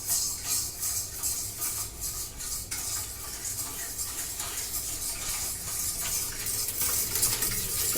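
A spoon stirs one-egg cake batter in a bowl, producing steady close scraping and soft clinks against the bowl's sides, continuous and moderately loud.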